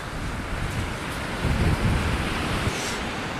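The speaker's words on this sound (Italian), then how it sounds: "Il vento che c'è oggi ci rende difficile anche questa operazione" Strong wind buffets the microphone on a Ligurian beach during surf fishing, a loud continuous roar with low gusty rumbles and the wash of surf underneath.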